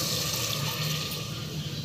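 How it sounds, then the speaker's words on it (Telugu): Water pours steadily into a pressure cooker holding a chana dal and dry fenugreek-leaf curry, a continuous close rushing splash with no talk. "ఇంకా వాటర్ పోసేసుకుంటే సరిపడే వాటర్ పోసుకున్నామనుకో"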